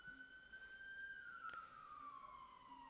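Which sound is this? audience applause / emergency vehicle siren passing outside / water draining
emergency vehicle siren passing outside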